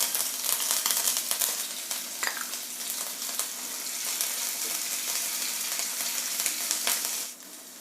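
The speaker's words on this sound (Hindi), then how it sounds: "तेल हो चुका है हमारा गरम, तो उसमें हम डालते हैं हींग, लाल मिर्च और जीरा" Asafoetida, red chilli and cumin hit hot oil with a bright, crackling sizzle that carries on steadily and close for several seconds before easing slightly at the end.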